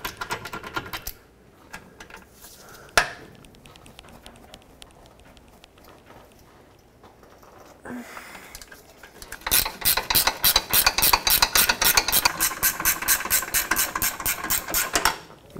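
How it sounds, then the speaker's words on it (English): A ratchet unthreads 18 mm bolts on the front lower control arm of a Volvo V70: sparse clicks and a sharp knock early, then a rapid, fairly loud run of even ratcheting clicks through the latter half. "So now let's unbolt these two bolts over here, 18 millimeter headed bolt."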